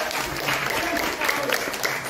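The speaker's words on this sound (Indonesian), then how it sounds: "Kasih tepuk tangan sama anak yuk" Worship congregation in Semarang applauding a child, a steady roomy spread of clapping at moderate level with a voice murmuring faintly underneath.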